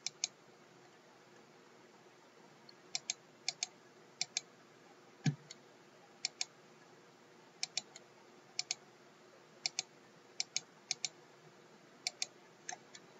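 Typing an email address on a smartphone touchscreen, heard as sparse, quiet, sharp tapping clicks in irregular clusters over faint background hiss.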